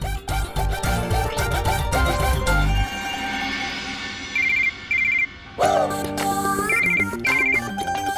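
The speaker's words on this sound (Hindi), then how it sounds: "नैना तो फोन कर क्यों किया?" A phone rings loudly with an incoming call, playing a melodic ringtone that repeats in bursts, with a short pause partway through and no talking.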